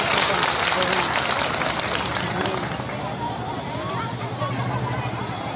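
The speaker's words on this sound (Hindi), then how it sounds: "गुजारिश है कि जोरदार तालियों के साथ" Loud applause from a large crowd at an outdoor public rally in Karnaprayag, a dense, steady wash of clapping with crowd noise and some voices mixed in throughout.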